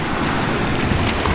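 Ocean waves churn against a rocky shore at a Bonaire dive site, a loud, continuous wash of surf mixed with wind buffeting the microphone, with no talking.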